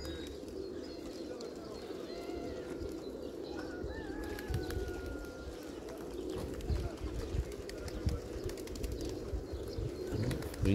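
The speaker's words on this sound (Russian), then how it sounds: "а уже вниз слетают голуби" A large flock of several hundred pigeons flutters down and lands outdoors, a steady wash of wingbeats with occasional coos, heard alongside a voice.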